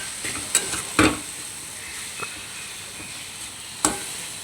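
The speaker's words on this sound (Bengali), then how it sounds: "পটলটা আরেকটু ভাজা ভাজা হবে" Pointed gourd pieces fry and get stirred in a pan: a soft steady sizzle runs throughout, broken by a few distinct scraping clacks of the spatula against the pan.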